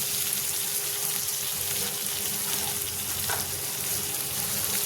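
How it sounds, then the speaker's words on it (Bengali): Boiled elephant foot yam frying in a pan with melted tomato makes a steady, close sizzle with a few faint stirring touches. "ওলটা দিয়ে তাতে ভাজবো কিছুক্ষণ।"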